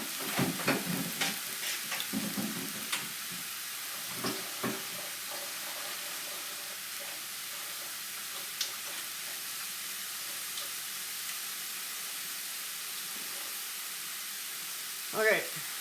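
Pork sizzles in a pan heating back up on the stove for an Asian pork, rice and red pepper dish: a quiet, steady frying hiss broken by a few utensil clinks and stirring scrapes near the start and a sharp clatter at the end.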